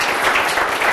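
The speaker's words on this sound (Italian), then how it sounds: "ci andrebbe un applauso qua." Audience applause at a televised local event in Villa Lagarina, Trentino, a dense, steady wash of clapping that holds at an even loudness through the whole short stretch, with no voices standing out.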